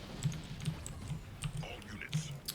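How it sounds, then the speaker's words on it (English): Clicky Cherry MX Blue switches on a Razer BlackWidow keyboard tap out a quiet, fairly regular run of keystrokes, faint and close, with soft speech murmuring alongside. "keyboard mashing is annoying"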